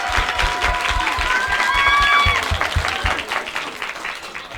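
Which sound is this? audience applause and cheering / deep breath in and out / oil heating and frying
audience applause and cheering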